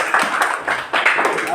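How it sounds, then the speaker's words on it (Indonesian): Schoolchildren in a classroom clap their hands together in a few bursts of uneven claps, with a teacher's voice and chatter mixed in. "Iya, tepuk tangan dulu."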